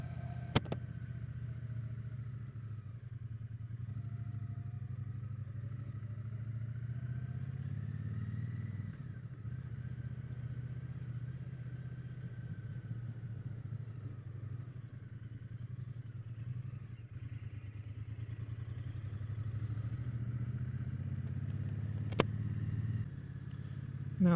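Triumph Bonneville T120 motorcycle ridden along rough country roads in the Trough of Bowland, a steady low engine drone with wind noise, shifting slightly in pitch as the rider changes speed, heard from the bike itself.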